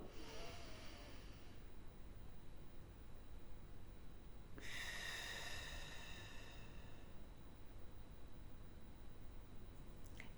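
Slow guided square breathing, a long audible inhale or exhale of air near the microphone, followed by a quiet held pause over steady low background hiss.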